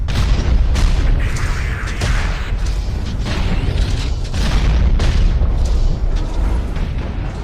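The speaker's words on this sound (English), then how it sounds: "Incoming missile." Missile explosions in the Hawken mech video game, a steady run of loud booms and bursts over a constant rumbling battle bed, with no clear pauses.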